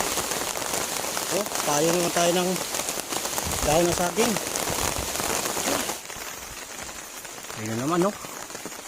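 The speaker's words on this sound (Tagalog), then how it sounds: "So guys, lumakas na yung hangin. Saka yung ulan." Heavy rain and wind by a forest river, a dense, steady hiss of falling water that runs throughout, loud and close. People talk over it at intervals.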